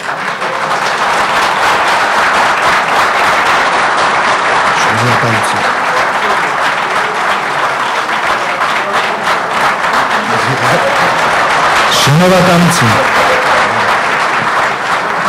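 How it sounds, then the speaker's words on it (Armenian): Loud, sustained applause from a large crowd fills a hall at a 2011 Republican Party of Armenia economic forum, running unbroken for over fifteen seconds, with a brief spoken word near the start. "Մենք հաշվի կառնենք այս ծափահարությունները։"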